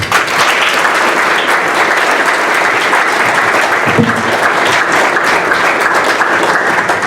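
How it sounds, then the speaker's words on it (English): Loud, sustained applause from a conference audience at a space industry panel on public-private partnerships, a dense, even roar of clapping that continues unbroken throughout. "Please join me in another round of applause."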